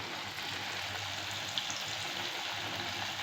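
Rice kachori deep-fries in oil over a low flame, giving a steady, dense sizzle that holds evenly throughout, close and continuous with no voices.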